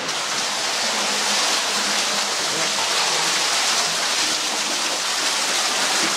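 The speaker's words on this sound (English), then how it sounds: "we can hear a little bit of noise. So we know there's water coming from the manway" Water flows out of an old abandoned mine manway at the historic Ottawa Mine and Mill, making a steady, loud, hissing rush with no break.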